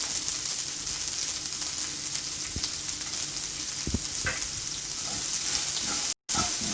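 Onion, green chili, curry leaves and ginger-garlic sauté in hot oil in a pan, making a steady, close sizzle with a few scraping stirs. A brief dropout comes near the end.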